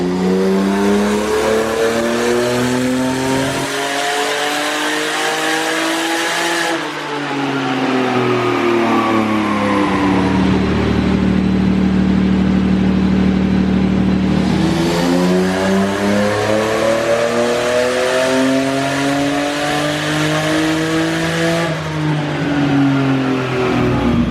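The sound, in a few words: BMW M52 turbo engine revving on a dyno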